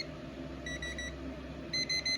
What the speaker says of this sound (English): And to disable this audible tone on your Dish remote